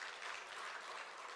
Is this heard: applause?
yes